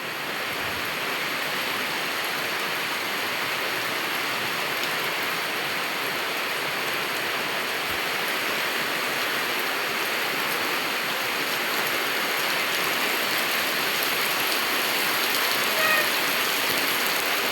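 Rain falling outside a village house, a steady dense hiss of rainfall that stays even and constant throughout.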